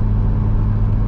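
Nissan Skyline fitted with a new exhaust, engine droning steadily with a rising turbo spool, heard from inside the car as a loud, continuous low rumble with no pauses.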